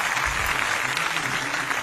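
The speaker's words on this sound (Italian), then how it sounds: "Metti gli applausi, Dai, metti gli applausi immediatamente." Canned studio applause played on cue, a dense, steady wash of many clapping hands filling the short burst with no talk over it.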